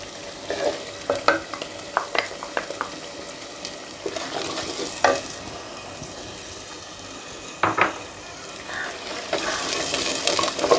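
Ground spices and a freshly blended paste of two tomatoes frying in a pot for black chickpea curry, a constant bright sizzle broken by repeated scraping knocks of a spoon stirring against the metal, with louder clatters near the middle and end.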